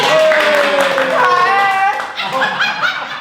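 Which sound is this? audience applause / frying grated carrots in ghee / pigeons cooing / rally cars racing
audience applause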